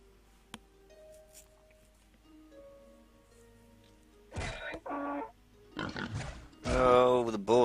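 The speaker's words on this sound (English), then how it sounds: "Oh, the boars on the loose again." Wild boars in the city-building video game Zeus grunt and squeal in a few loud, rough bursts toward the end, after quieter game ambience with soft tones and clicks, with no talking.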